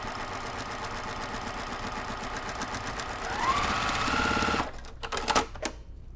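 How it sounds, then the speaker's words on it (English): A sewing machine stitching a quilt block seam runs in a fast, even mechanical chatter that rises in speed partway through, then stops, followed by a few short clicks. "And then I'm gonna sew with the seam on top so I can hopefully hit the seam."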